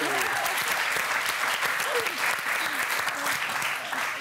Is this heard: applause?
yes